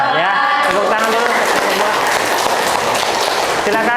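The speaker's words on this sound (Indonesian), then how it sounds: "Ya, tepuk tangan dulu." A crowd claps continuously in a dense, even burst of applause, with a voice briefly audible at the start.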